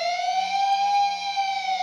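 An electric guitar imitates an ambulance siren, holding a loud, sustained, wailing tone that bends slightly in pitch, rich in overtones and heard alone at close range.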